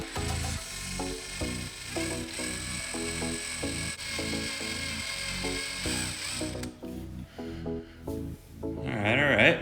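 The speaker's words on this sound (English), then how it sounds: "take a super small drill and see if I can make some starter holes" A small power drill with a tiny bit whirs in short repeated bursts, drilling starter holes, pausing briefly between each, with a scraping rasp near the end.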